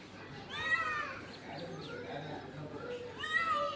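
A cat meows in short rising cries, one near the start and another near the end, heard indoors at midnight over a quiet background with people talking softly.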